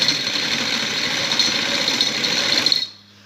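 A sewing machine stitches a border onto the side slit of a shirt, running as a steady fast whirring hum close by for nearly three seconds before stopping abruptly.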